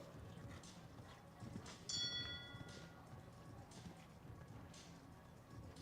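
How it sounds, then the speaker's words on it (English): A single bright bell rings briefly and fades, signalling the next rider at a show-jumping speed class, faint against a quiet, distant background of arena ambience and soft hoofbeats. "The bell sounds now as Jewel Vendehoek will be the next to show."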